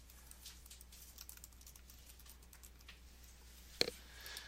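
Soft, quick keystrokes patter on a computer keyboard as a book title is typed, a light irregular run of clicks with one sharper tap near the end, no voices.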